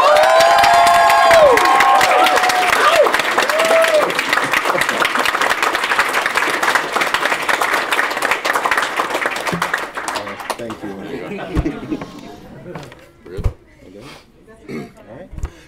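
A graduation audience applauds loudly for the class of 2019, a dense wash of clapping and some cheers that gradually thins into scattered claps, with a few voices talking near the end.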